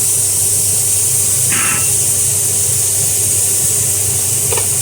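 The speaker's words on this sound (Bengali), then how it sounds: "তেল দিয়েছি তেলের পর আমরা এখানে পেঁয়াজ দিয়ে দিচ্ছি" Onions hit hot oil for chicken biryani, producing a loud, steady sizzling hiss that runs unbroken from start to finish, with no voices.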